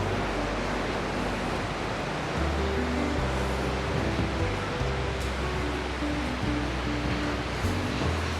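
Beach waves wash in continuously with a steady broadband roar and surging low rumble, loud and close throughout, with no voices.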